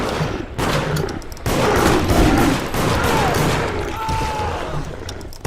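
Rapid bursts of gunfire from the online multiplayer game Deceit, loud and close, with volleys running through most of the stretch while players talk over them.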